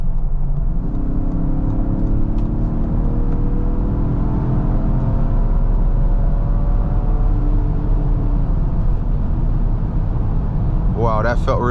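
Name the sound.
2023 Lincoln Aviator accelerating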